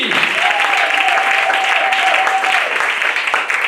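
A church congregation claps in praise of Jesus during a worship service, with continuous, dense applause throughout and a sustained keyboard-like tone held underneath for a few seconds.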